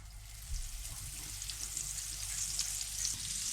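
Butter melts and sizzles in a hot pan with olive oil before courgettes go in. The hiss is soft and steady, with a low rumble underneath and no voices.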